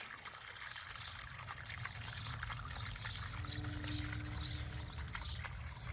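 Water trickles steadily through a new garden water feature, a soft, continuous babbling that runs on alone without a break.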